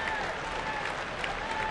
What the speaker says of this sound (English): Smattering of applause for Aaron Boone, who makes his Astros debut